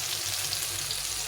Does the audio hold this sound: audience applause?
no